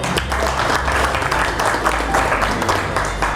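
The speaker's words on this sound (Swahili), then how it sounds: "Makofi kwao." Crowd applause at a public convening in a meeting hall, steady sustained clapping from many hands throughout, fairly loud with a faint murmur of voices beneath.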